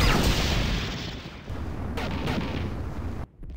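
Turrets blowing up as they are destroyed in the video game Tribes 2, giving a dense, rumbling blast that holds for several seconds before cutting off sharply near the end.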